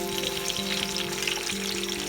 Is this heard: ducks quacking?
no